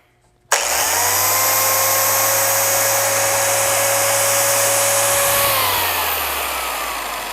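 An original Maxshine M8S car polisher switched on and run at full power, speed 6: a sudden start into a loud, steady high-pitched motor whine with a low hum, easing slightly near the end.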